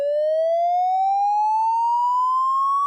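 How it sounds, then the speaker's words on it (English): A building fire alarm sounds as one loud, steady electronic tone that sweeps slowly upward in pitch, continuous and alone with no voices. "In the event of a fire or triggered alarm, an alarm will sound"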